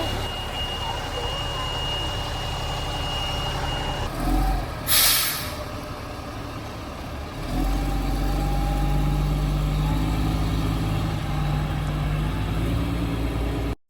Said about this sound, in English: I'm in the LMTV. It started. We are driving to Laguna Seca.